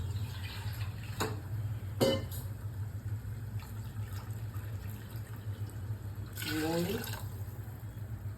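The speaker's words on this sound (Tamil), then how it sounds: "தண்ணி ஆட் பண்ணிக்கலாம்." Water splashes and gurgles as it is poured into a pot with coconut milk for kuska, a short filling burst near the end over a steady low kitchen hum and a few clinks.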